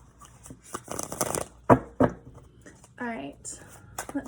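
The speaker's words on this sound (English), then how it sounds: "Let's get a good shuffle." Tarot cards being shuffled by hand, with a few riffling, papery bursts and sharp slaps interspersed among quiet stretches, close by, while a person talks over the shuffling.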